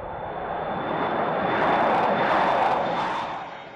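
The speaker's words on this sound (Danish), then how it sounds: "Et Gulfstream 3 fly letter fra Søndre Strømfjord i Grønland." A Danish Air Force Gulfstream III jet takes off from Søndre Strømfjord, Greenland, its engine roar swelling loud and broad, then easing slightly as it departs.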